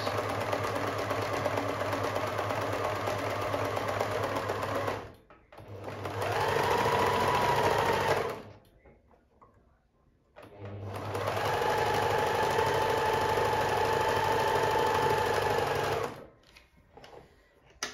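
A Pfaff 1525 sewing machine runs a stretch stitch program in two loud, close bursts of steady humming and rapid needle clatter. A quiet pause separates them, and no one speaks.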